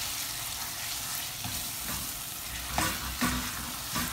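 Ginger and garlic frying with translucent onions in a pan over medium heat, a soft steady sizzle with occasional scraping stirs and light clinks, fairly quiet and close, no talk.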